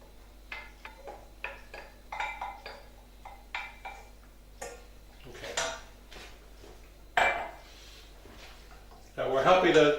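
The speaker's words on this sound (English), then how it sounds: "Again, stirring as you do so." A spoon scrapes and clinks against a metal pan in a series of short, close, irregular strokes while a curry powder, flour and chicken stock mixture is stirred for Japanese pork curry. A louder clattering burst comes near the end.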